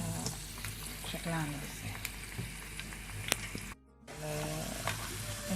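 Baghasha pastry frying in hot oil, a continuous crackling sizzle with a brief dropout partway through, under a short spoken remark.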